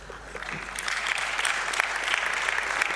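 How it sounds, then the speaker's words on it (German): An audience at a hacker congress talk claps, a steady crackle of many hands that builds quickly and keeps going at an even, fairly loud level with no voices on top. "Klatschen für Optimismus"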